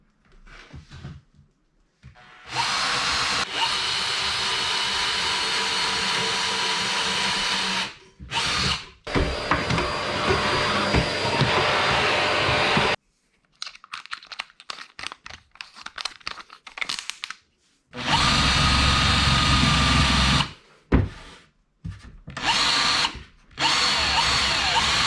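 A power drill bores holes in wood while building a skate ramp, with several long loud whirring runs separated by short pauses and brief crunching bits.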